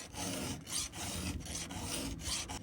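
A saw with square-ground teeth is filed by hand, giving continuous, close, rasping strokes that repeat in a steady rhythm with brief gaps between passes.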